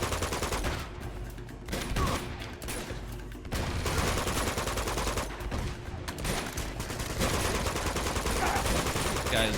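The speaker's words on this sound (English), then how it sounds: "Time to pick up a gun and shoot the rest of them." Sustained gunfire in the video game Uncharted 2, dense bursts of automatic weapons and rapid shots overlapping continuously at loud volume.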